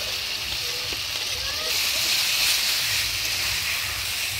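Fried potato and cauliflower pieces go into a spice masala for an egg curry and sizzle steadily in the pan, a dense continuous hiss that swells a little louder after the first couple of seconds, with no talking.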